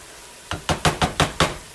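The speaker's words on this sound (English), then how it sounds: "you want to start stirring, getting all that goodness incorporated together" A spoon stirring rice pilaf in a pan, heard as five or six quick, close knocks and scrapes in an even rhythm against a faint sizzling background.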